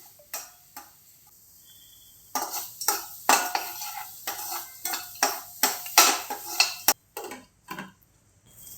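A spoon stirs a gooseberry rice mixture in a pan, giving a quiet start and then a quick run of scraping, tapping strokes with light sizzle, close and without talk.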